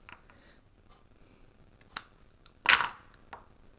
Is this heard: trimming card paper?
yes